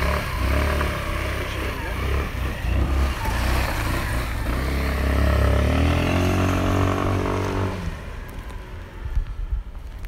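Moto Gusto Panzer 125cc motorcycle engine rumbling and revving nearby as it turns on the spot and pulls away, with a rising whine before fading somewhat toward the end.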